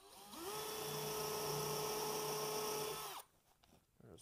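A power drill countersinks holes in ash wood, one steady, loud whine that ramps up, holds for about three seconds, then cuts off, leaving quiet handling noise.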